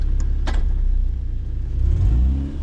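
A Lexus SC300 fitted with a CD009 swap revs hard through a gear change, a loud, close, continuous engine rumble that rises and holds steady for nearly three seconds with no one talking.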